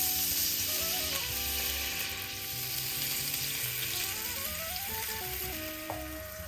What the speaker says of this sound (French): Je remets sur le feu. Je déglace avec le bouillon de bœuf.